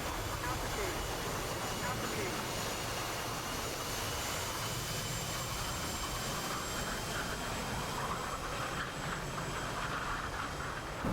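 Loud, steady roar of F/A-18 jet engines in the DCS World flight simulator, a continuous broadband rush with no breaks, flying at altitude during a solo airshow routine, heard alone without talk.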